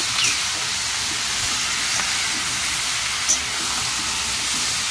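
Spices fry in a pan over high heat with ginger-tomato paste and potatoes, giving a steady, close sizzling hiss that runs unbroken throughout with a faint clink near the end.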